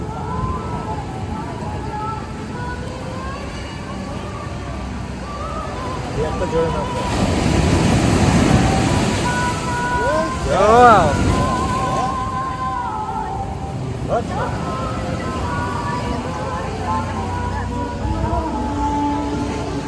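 Sea waves break and wash steadily at Old Digha beach, the surf swelling louder midway, mixed with wind buffeting the microphone while people talk nearby.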